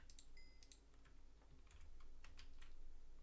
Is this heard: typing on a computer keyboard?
yes